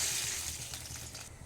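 Water is poured into a simmering chickpea curry in a pan, a brief close hiss and sizzle that fades quickly.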